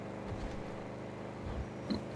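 A car driving in Grand Theft Auto V gives a low, steady engine rumble with slight swells, fairly quiet and alone, plus a brief higher whine near the end.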